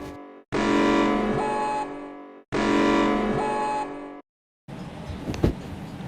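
Train emergency alarm: two long, loud, harsh buzzing blasts separated by a brief gap, followed by quieter rumbling noise with a short sharp spike.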